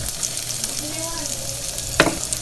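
Carrots frying in a little oil in a kawali, a close, steady sizzle with soft crackles and a brief stirring scrape near the end.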